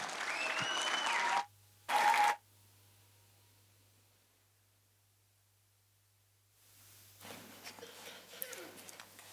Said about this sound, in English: So what I want you guys to do a warm round of applause for Katia